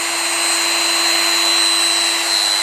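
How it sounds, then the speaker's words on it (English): A Makita GD0600 corded die grinder runs continuously with its button locked in, a loud, steady high-pitched electric whine with a bright tonal ring and no change in speed, close by and alone. "I'll turn the die grinder on"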